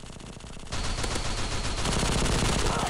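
Rapid automatic gunfire from a weapon in the shooter game Bullet Force, loud and continuous bursts of shots that grow denser after a brief quieter opening, with no talk over it.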